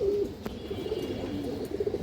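A pigeon on a farm coos in low, rounded repeated notes, close and fairly quiet, with no voices.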